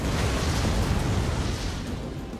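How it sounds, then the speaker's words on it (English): Ballista artillery fire in Total War Rome 2, a loud, broad rumbling barrage of impacts and bursts blending into a continuous roar that eases slightly toward the end. "I'll just keep my ballista pouring down fire over multiple different areas"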